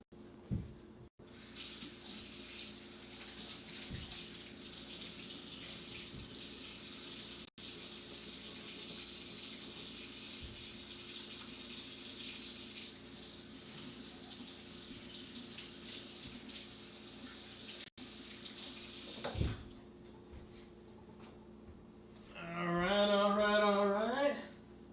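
A kitchen tap runs steadily at close range while oil is washed off, a soft continuous stream of water with a few clinks and a brief louder gush near the end.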